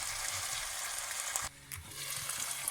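Tomatoes cooking in a pot for breyani give a steady, close sizzle and crackle, with a brief dip midway and faint stirring knocks beneath.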